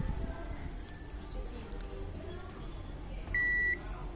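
One clear electronic continuity beep sounds from a multimeter as its probes touch while checking a broken laptop touchpad cable, a steady tone lasting under half a second against a quiet room hum.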